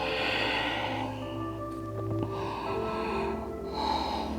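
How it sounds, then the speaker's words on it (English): Slow breaths drawn in and pushed out through the nose during a yoga plank sequence, close and audible, with about three breaths in a steady rhythm and no talking. "Breathing in and out of the nose."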